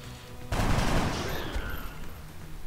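A sudden burst of soldier gunfire in XCOM: Enemy Unknown, one loud rapid volley that cuts in abruptly and then fades into a lingering rumble, with no talking.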